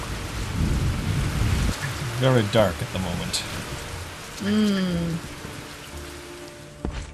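Minecraft rain hisses steadily at first, then stops while someone talks over a quieter background.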